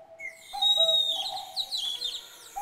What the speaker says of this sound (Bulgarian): Славят пее чудни мелодии. А куковицата му приглася.